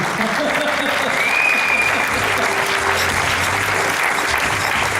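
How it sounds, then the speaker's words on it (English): Audience applause at a talk, a dense and steady wash of clapping from a large crowd, loud and continuous, with faint voices mixed in. "Give her a round of applause, ladies and gentlemen"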